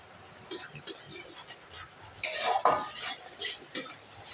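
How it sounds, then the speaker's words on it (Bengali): Metal spoon scraping and clinking in a pot while turmeric powder is stirred into mutton, a series of close, irregular scrapes and taps, louder toward the middle, with soft background noise. "হলুদ গুঁড়োটা ভালো করে মিক্স করে নেব।"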